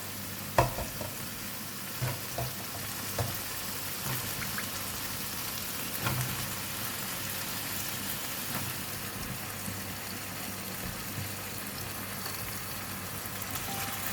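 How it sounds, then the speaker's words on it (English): Brinjal stir-fried with curry powder crackles in a pan, a steady close sizzle broken by scattered scraping and tapping of a utensil throughout. "now I'm going to add in the brinjal"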